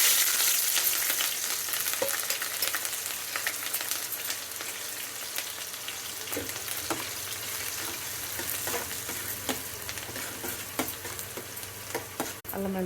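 Onions and green chillies fry for a cabbage curry, making a loud, steady sizzle that is strongest at first and then eases, with scattered pops and a few stirring scrapes.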